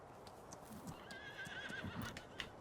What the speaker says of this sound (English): So here's our new horses, glitching around in the paddock as always.